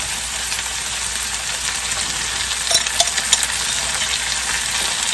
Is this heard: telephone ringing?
no